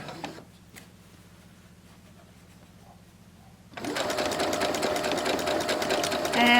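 Sewing machine running a continuous seam on a gown, quiet low mechanical hum at first, then the motor speeds up into a loud, steady close-up whir for the last few seconds.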